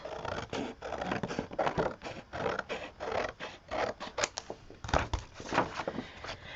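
Scissors cutting the end page off a non-perforated ledger book, a series of close, crisp snips and paper scratches in an uneven rhythm, quiet and with no talk.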